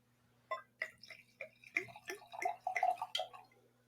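Wine trickles and splashes into a glass in short irregular bursts, a close, quiet pour of a small half-glass amount with no talking over it.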